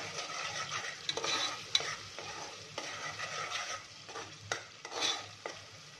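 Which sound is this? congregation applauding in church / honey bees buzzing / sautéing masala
sautéing masala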